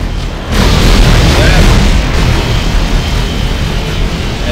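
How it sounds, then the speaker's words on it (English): An AT-AT walker in Star Wars Battlefront 2 explodes in a loud, heavy boom. The boom swells into a sustained roaring rumble that slowly fades, with a voice talking over it. "eventually, you'll go all the way around to the point where it will explode"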